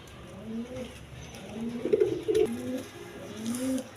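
Pigeons in a loft coo in soft, repeated bubbling phrases, several overlapping calls rising and falling over a quiet background, with a slightly louder burst in the middle.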